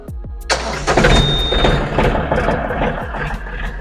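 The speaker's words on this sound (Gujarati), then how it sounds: "ટ્રેક્ટર ચાલુ કરવા માટે પુશ સ્ટાર્ટ બટન આપ્યું છે," A Mahindra OJA 2127 tractor's engine cranks and fires after a push-button start, then settles into a loud, close diesel rumble that runs steadily to the end.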